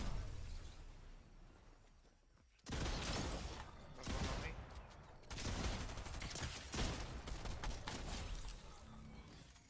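Bursts of rapid gunfire and loud explosive volleys in a shooter video game, dense and sustained after a quieter opening.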